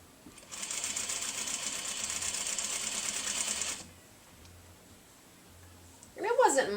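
A sewing machine runs steadily for about three seconds while stitching a seam joining quilt top sections, then stops, followed by quiet handling and a brief voice at the end.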